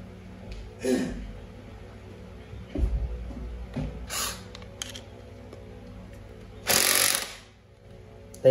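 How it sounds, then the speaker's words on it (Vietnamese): An SK11 cordless drill-driver in hammer mode, working with a screwdriver bit, gives a few short, rough, rattling bursts spread over several seconds, close and fairly loud, with clunks and handling noise between them. "Mình lấy cái tô vít mình test búa nhé."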